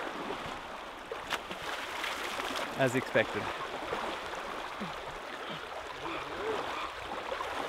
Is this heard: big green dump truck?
no